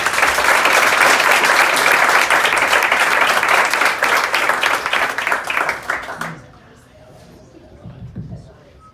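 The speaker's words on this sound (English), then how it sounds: "So please give them a warm round of applause." Audience at a storytelling panel event clapping in warm applause, loud and dense for about six seconds before fading out, followed by quiet room noise and faint talking.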